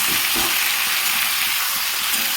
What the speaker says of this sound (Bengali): সবজিগুলোর সাথে মশলার সাথে চিংড়ি মাছটা মিশিয়ে নিলাম